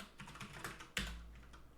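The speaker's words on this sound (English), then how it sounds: "I'm typing on the other screen." Steady, rapid clicking of fingers typing on a computer keyboard, close and fairly quiet, with one sharper thump near the end and no voices.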